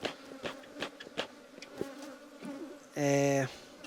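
A honeybee swarm buzzes nearby amid scattered clicks and knocks, with a louder, sustained drone from a single close bee near the end.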